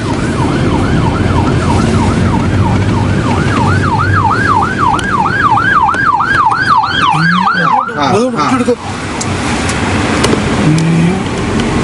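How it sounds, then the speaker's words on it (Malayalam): An ambulance siren wails loudly and steadily through a rapid rising-and-falling cycle on a road amid cyclone Gonu damage, with traffic rumble beneath and the siren shifting pitch as the vehicle passes. "ആംബുലൻസ്"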